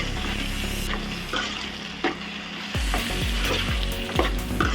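Onion and dried prawn curry with tomatoes is stirred in a hot pan. A steady sizzle runs under repeated scraping strokes of a spoon, which become louder and more rhythmic in the second half.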